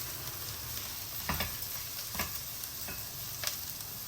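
Onions frying in a pan for rajma curry: a quiet, steady sizzle with a few soft stirring scrapes, close and without talk.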